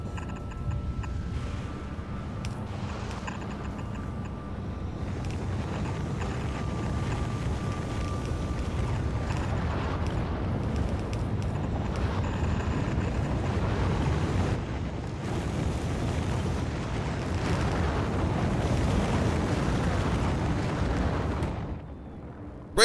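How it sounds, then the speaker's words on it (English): A rocket launch in the Factorio video game roars as a long, sustained rumbling blast that swells and holds steady for about twenty seconds, then cuts off abruptly. "Great timing with these rockets again."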